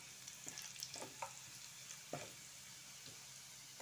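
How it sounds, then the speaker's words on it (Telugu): Onions frying in a pan until they turn brown, giving a faint, steady sizzle broken by a few soft clicks and scrapes of stirring. "ఆనియన్స్ బ్రౌనిష్ వచ్చేదాకా వేయించాలంట."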